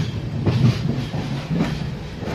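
The Pondicherry–New Delhi Express runs along the third line between Chennai Egmore and Chennai Beach. It makes a steady, loud rumble with rhythmic clickety-clack from the wheels and no voices.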